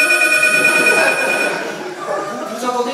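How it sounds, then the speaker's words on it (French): A telephone bell rings loudly and steadily, its bright repeating ring close by, then softening a little toward the end. "Vous entendez le téléphone qui sonne?"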